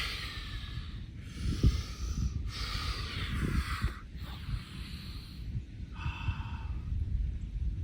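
Steady slow breathing during a morning yoga flow, long smooth inhales and exhales repeating in a relaxed rhythm, close and fairly soft, with no talking.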